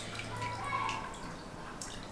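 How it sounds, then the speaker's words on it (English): Fish being washed by hand in a basin of water in a village kitchen, giving soft, steady splashing and trickling with a few faint drips, quiet and close. "I'm done washing my fish"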